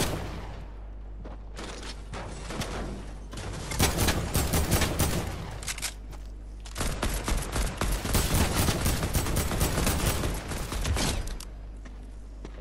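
Bursts of gunfire and grenade blasts fired through a roof in a shooter game, loud rapid volleys in two long clusters with short lulls between them.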